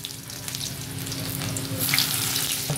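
Chopped garlic sizzles steadily in hot oil in a pan while chilli chicken is being cooked, a continuous close fry that swells slightly louder toward the end, with no voices.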